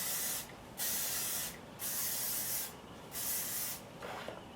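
Hairspray misted into curly hair in four short, close hissing bursts with brief pauses between them, the last one weaker.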